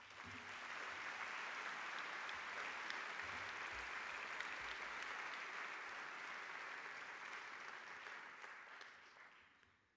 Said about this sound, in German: Ich bitte um einen Applaus.